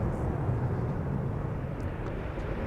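Airliner taking off at Amsterdam Schiphol Airport, a steady, loud, low jet-engine roar that holds without a break.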